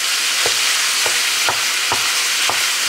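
Chili topping simmers in a pan with a steady broadband sizzle while a spoon stirs it in, giving five evenly spaced scraping knocks against the pan at close range.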